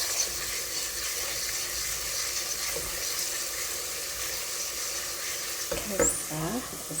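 Cardamom pods sizzle steadily in a hot pan as they are stirred, a continuous frying crackle with a few brief scraping clatters near the end; no talking.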